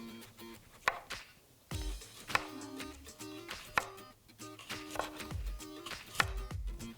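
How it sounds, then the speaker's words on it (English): A kitchen knife cuts a cucumber into quarter-inch slices on a cutting board, giving a series of crisp chops in an uneven rhythm with short pauses, close and fairly quiet, with no talking. "slice off the ends here. And we're gonna do about, let's say, 1/4-inch slices"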